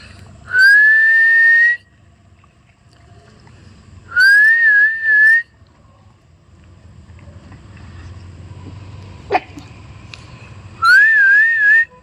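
A person whistles to call dogs for feeding outdoors, making three or four loud rising whistles separated by pauses against quiet wind.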